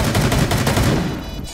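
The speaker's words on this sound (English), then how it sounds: "They're shooting through the left wall." Bursts of automatic gunfire fired through a wall in Rainbow Six Siege, a rapid string of muffled shots over about a second before trailing off, loud and close.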